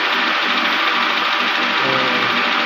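Engine knocking from a 2007 Honda Accord with a K24 engine, a steady loud mechanical drone with a dense rattling texture, running continuously without talk.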